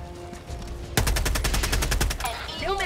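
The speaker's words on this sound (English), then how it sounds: "3, 2, 1, here comes strafing bomb!" A strafing-run airstrike in Helldivers 2 rips through as a rapid burst of a dozen or so loud, evenly spaced cannon shots lasting about a second, with a high whine and scattered noise after, no talk over it.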